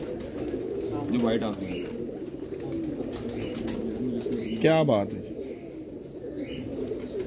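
Racing pigeons coo softly in a loft, a steady low murmur of overlapping calls running throughout while people talk over them.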